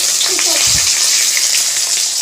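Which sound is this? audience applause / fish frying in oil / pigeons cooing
fish frying in oil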